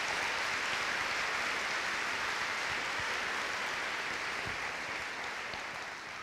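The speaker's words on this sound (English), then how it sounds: "let's give them a round of applause for that." An audience at a back-to-school kickoff event for school staff claps in sustained, dense applause that tapers slightly toward the end.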